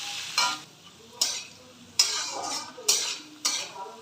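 Soaked cashews and raisins fry in ghee in a pan for pulao, a soft sizzle broken by five evenly spaced scraping stirs of a spoon against the metal, close and fairly quiet.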